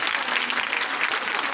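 Audience applause at a live college talk, a dense, steady patter of many hands clapping together throughout, moderately loud with no clear break.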